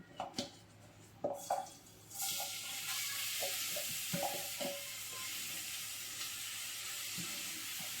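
Grated carrot for gajar halwa frying in ghee, a steady loud sizzle rising after a couple of seconds, with scraping stirring strokes and a few clinks of the pan at the start.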